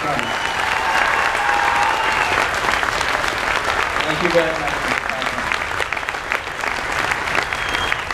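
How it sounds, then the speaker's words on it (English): Sustained audience applause at a middle school spring wind ensemble concert, a dense, loud wash of many hands clapping continuously, with a voice speaking briefly over it partway through. "let's give him one more round of applause"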